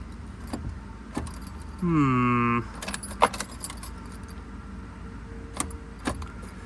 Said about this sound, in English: I'm gonna turn the key